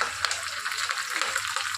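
Curry leaves crackle and hiss in hot oil during tempering, a short burst of close, bright sizzling.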